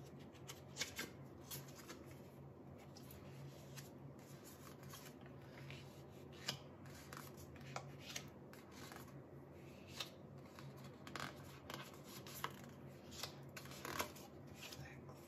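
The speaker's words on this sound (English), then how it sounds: "Let me shuffle the cards." Faint soft riffling and sliding of tarot cards being shuffled, with small repeated flicks and taps in a quiet room.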